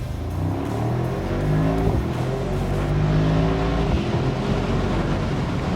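A 2023 Mercedes SL 63 AMG with its 4-litre twin-turbo engine launches hard from a standstill, the loud, close exhaust note climbing through rising gear tones, with a brief dip at each upshift as it keeps pulling.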